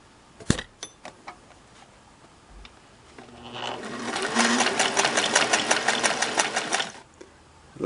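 A Singer 401A sewing machine stitches a zigzag, its steady rapid mechanical whir and ticking rising after a few faint clicks and running loud for about four seconds before stopping.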